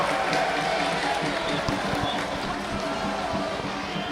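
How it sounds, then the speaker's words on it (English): Football crowd in a stadium in Accra at a Ghana versus Uganda women's U20 World Cup qualifier, a broad, steady roar of cheering voices filling the background, loud and continuous with some rising shouts throughout. "All of a sudden, the crowd here in Accra have found their voice."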